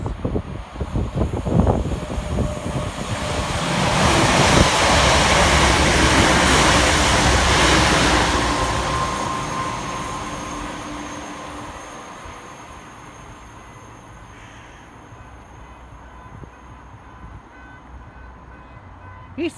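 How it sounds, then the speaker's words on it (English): A pair of coupled East Midlands Railway Class 360 electric units on a Corby to London St Pancras service rush past loudly, a broad roar swelling and then fading into the distance with no talking. "And next up for East Midlands Railway, 360-105 and 360-109, working the Corby connector, 1H14, Corby to London St Pancras."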